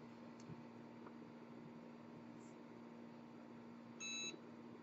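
A Cricut EasyPress 2 heat press gives one short, bright electronic beep when it finishes, standing out over a quiet, steady background hum.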